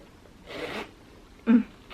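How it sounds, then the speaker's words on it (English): A Louis Vuitton Nano Speedy handbag zipper is pulled twice, two short raspy zips close by, separated by a brief pause in a quiet room. "The zipper has been so smooth. Just take a listen."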